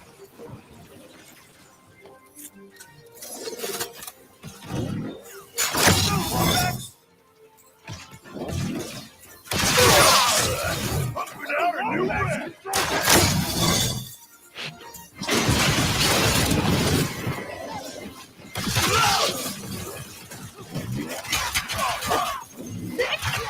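Glass-like shattering effects from the PlayStation 5 reveal trailer break out in repeated loud crashing bursts separated by short pauses, with talking in places.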